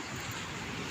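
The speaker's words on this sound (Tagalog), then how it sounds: "Hindi na masyado malakas yung alon." Steady broadband wash of surf at the shore at low tide, a continuous close rumble of waves with wind noise, no voices.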